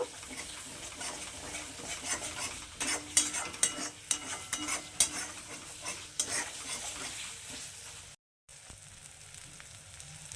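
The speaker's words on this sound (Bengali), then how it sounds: "মটরশুঁটিগুলোকেও দিয়ে দিচ্ছি এবার এটাকে একটু কষিয়ে নেব" Green peas and spices are stirred and fried in a pan for a vegetarian aloo matar paneer made without onion or garlic, with a soft sizzle, repeated spoon scrapes and clinks up close, and a brief silent gap near the end.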